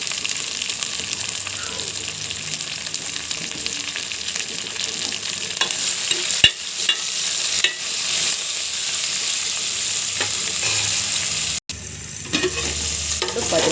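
Cut okra pieces frying in oil in a pan, a loud, dense, continuous sizzle heard up close, with a few brief stirring clatters and one short break near the end.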